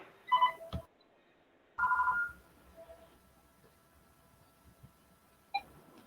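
A phone call is placed: short electronic dialing tones, then a pair of ring-like tone bursts and a final brief beep, with quiet gaps between them and no talking.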